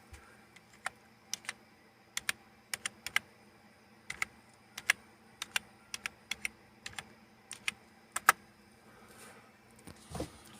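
A password is typed on a computer keyboard: a dozen or more crisp, sparse key clicks in an uneven rhythm, close and fairly quiet against a low hum, with no talking.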